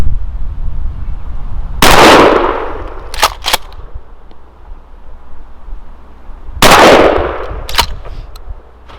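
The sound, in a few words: Remington 870 Tactical 12ga shotgun firing buckshot, then target load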